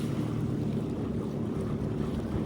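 A Sea-Doo Trixx personal watercraft speeding over the water, a steady low engine drone mixed with rushing water and wind buffeting, close and continuous.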